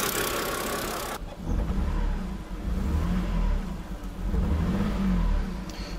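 A BMW 330i engine misfiring on five cylinders idles roughly with an uneven, stumbling rumble and irregular surges, close by, after a burst of hissing noise at the start.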